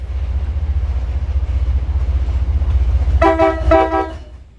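A train approaching a station rumbles steadily with a deep low drone, and near the end a horn sounds two loud blasts.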